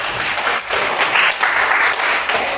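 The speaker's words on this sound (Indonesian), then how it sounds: "Oke, tepuk tangan dulu ya" Group applause from an audience following a group presentation in a teacher-training class, steady dense clapping that fills the whole moment, with a faint voice underneath.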